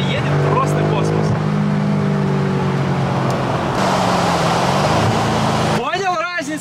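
Exhaust on a BMW M5 revs with a deep, throaty rumble that rises and falls in a couple of blips, close by, under steady voices talking, and ends with a brief sharp burble.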